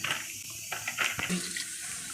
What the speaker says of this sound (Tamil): இதை நல்லா கழுவிட்டு ரெண்டு தடவை கழுவிட்டு நல்ல தண்ணி ஊற்றி ஊற வச்சுக்குவோம்